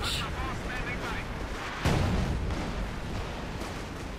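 Artillery shells rumble and boom across a Company of Heroes 2 battlefield, with a heavier impact midway and a dense, continuous rolling barrage of explosions.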